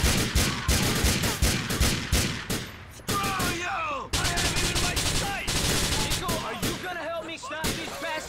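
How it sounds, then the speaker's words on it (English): Rapid bursts of gunfire in Grand Theft Auto IV, a dense fusillade of shots close up with voices shouting between and over them. "Can these people shoot at us on another day?"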